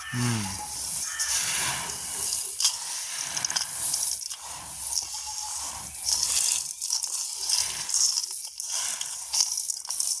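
Spices are ground by hand in a village kitchen, a steady run of gritty crunching and scraping strokes with hissy, rasping texture that carries on continuously, close up.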